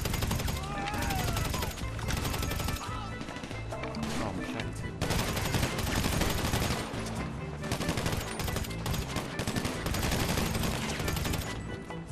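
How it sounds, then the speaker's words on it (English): Dense, sustained gunfire from a heavy firefight in GTA V on Xbox One, with rapid automatic bursts and overlapping shots that stay loud and continuous across the whole stretch, with music or game noise layered underneath. "I'm getting shot up like crazy"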